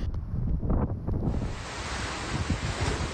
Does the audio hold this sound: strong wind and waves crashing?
yes